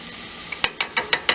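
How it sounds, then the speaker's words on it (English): Minced garlic sautés in a pan with a soft sizzle beneath a series of five or so crisp scraping stirs spaced evenly, close and fairly loud. "And we're going to go ahead and saute"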